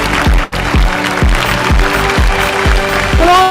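An awards ceremony audience claps steadily through a finance excellence awards presentation, the dense patter running under a loud, pulsing music beat with regular heavy thumps.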